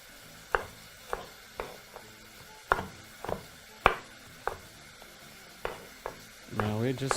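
Knife chopping julienned carrot on a cutting board while making chicken biryani: a series of about a dozen sharp, separate taps at an uneven pace, fairly close, with a brief rustle at the end.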